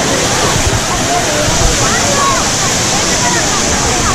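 Fountain water pours and splashes down in the Gardens of La Granja de San Ildefonso in Segovia, a loud, continuous rushing spray close by with no breaks.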